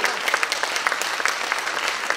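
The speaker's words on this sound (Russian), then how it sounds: "Дарья Васильевича, помните, мы это хлопали" Concert audience applauding at a cultural event held in an embassy's cultural centre abroad, a dense, steady wash of many hands clapping throughout with scattered sharper claps, fairly close and loud.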